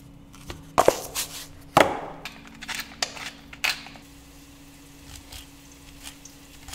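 A knife finely chops food on a board: a handful of sharp, irregular, fairly quiet cuts close by, with pauses between them.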